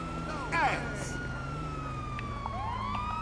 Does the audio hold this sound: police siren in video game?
yes